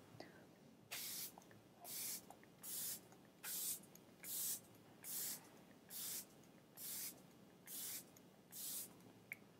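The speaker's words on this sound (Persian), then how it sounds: "اسپری فیکس حسابی بزنین" Makeup setting spray misted over a face in about ten short, even bursts, each a loud hiss roughly a second long at a steady rhythm, close to the microphone.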